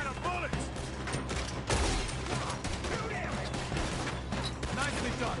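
Repeated gunfire from a Red Dead Redemption 2 firefight crackles throughout in bursts of overlapping shots, with a heavy boom partway through and voices speaking over the shooting.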